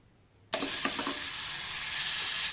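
Chopped onions drop into hot ghee and coconut oil in a pressure cooker for an Alasande (black-eyed pea) pulao, setting off a sudden loud, steady sizzle after a quiet start, with a few brief clinks from stirring.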